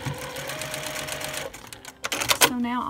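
Sewing machine stitching Dresden plate quilt blades together: a short close whir for about a second and a half, then brief clicks and handling noises.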